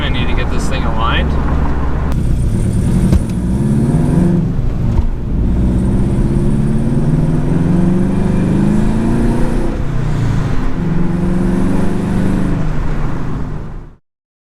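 A car lifted on budget eBay coilovers drives along a road, its engine and tyre rumble holding steady and close for the whole stretch before cutting off, with a voice talking over it.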